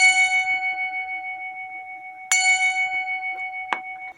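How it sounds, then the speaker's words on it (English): A Meccano clock strikes a gong made from a ball race, giving two clear metallic tings with long ringing sustain that slowly fades, and a shorter, softer tap near the end. "I found that the ball race is pretty much the best part to use as a gong."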